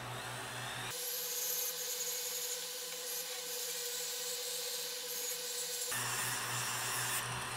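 Silver and brass being sanded with 400 grit sandpaper, a continuous fine rubbing hiss, faint and close, over a low background hum.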